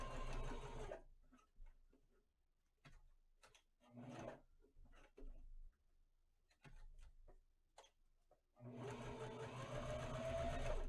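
A sewing machine stitches a fabric fashion mask in bursts of rapid, even mechanical ticking, sharp stretches of stitching broken by short pauses, close and fairly quiet.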